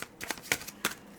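A deck of oracle cards being shuffled up close, with three or four quick riffling bursts in an uneven rhythm and no voices.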